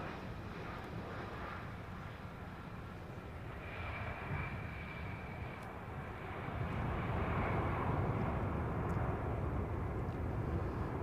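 An Air France airliner passes at London Heathrow, its engine roar a broad, distant rumble that grows louder toward the end, mixed with gusty wind buffeting the microphone.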